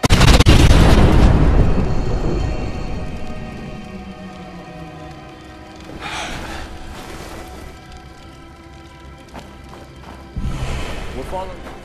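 A set demolition charge detonates in the zombie survival video game State of Decay, a loud booming blast at the start that rolls off into a long rumbling decay, followed by scattered debris-like crackles and a second thump near the end.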